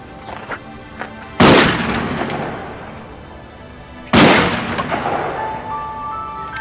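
Shotgun chambered for 2 3/4-inch shells firing a 3-inch Magnum shell and exploding: two loud, sharp blasts a few seconds apart, each trailing off in a long rumbling echo outdoors.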